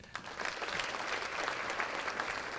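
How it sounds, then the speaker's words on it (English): An audience claps steadily for a school board president at a district Teachers of the Year event, dense even applause filling the room without a break. "Give him a round of applause."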